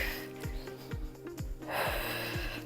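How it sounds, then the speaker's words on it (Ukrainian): A deep breath drawn in and pushed out during a fitness workout, a soft breathy rush that swells near the end over steady background music, with no talking. "Глибокий вдих, видих."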